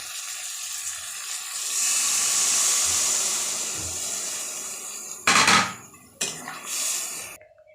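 Prawns stirred into hot spiced oil in a pan, giving a steady loud sizzle and hiss that swells and fades, with a couple of sharper bursts of spattering and scraping near the end.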